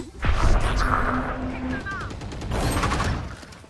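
Several shots from a Guardian rifle in the game Valorant, with a sharp burst at the start and more gunfire and game effects spread across the clip, loud and close, over busy game sound with a voice talking.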